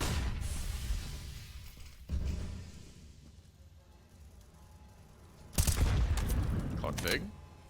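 Gunfire rings out during a Counter-Strike match on Overpass, a video game, with sharp bursts of shots near the start and a louder volley toward the end, under a steady background of match audio.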